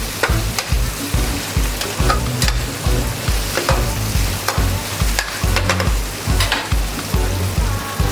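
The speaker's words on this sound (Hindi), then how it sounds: "जैसे मसाले डालती जा रही हूँ मैं इसको साथ में हिलाती रहूँ" Spices for a bhindi (okra) fry sizzle loudly in a pan while a spoon scrapes and stirs in a quick, regular rhythm throughout, close and continuous.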